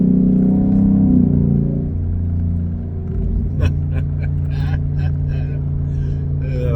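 A truck in sport mode accelerates through the gears, its engine rumbling steadily at close range from inside the cab, with people talking over it.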